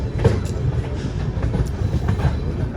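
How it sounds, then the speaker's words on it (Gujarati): Passenger train on the Rajkot to Haridwar route moving out of a station at night, a steady low rumble with faint rhythmic wheel clatter, continuous and moderately close, with no talk. "તો હવે આપણી ટ્રેન જો જાય છે"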